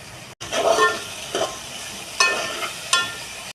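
Chopped tomatoes land in a pan of browned onions and fry, sizzling steadily while a spoon stirs in a few brief scraping strokes, close and fairly loud.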